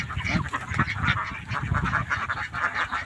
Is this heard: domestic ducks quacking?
yes